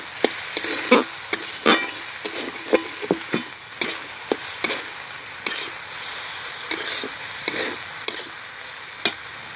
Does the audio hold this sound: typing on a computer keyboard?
no